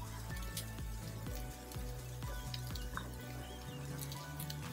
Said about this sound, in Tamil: எல்லாத்தையும் சேர்த்து நல்லா வதக்கி விட்டுடலாம்.